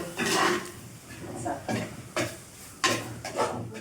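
A spoon stirs stingray liver masala in a pan, producing close scraping and knocking strokes in irregular bursts with a faint sizzle underneath and no speech.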